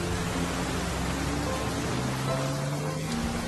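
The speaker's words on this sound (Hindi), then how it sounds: "बारिश काफी हो रही है" Heavy rain pours steadily, a dense continuous hiss with a low rumbling undertone and no pauses.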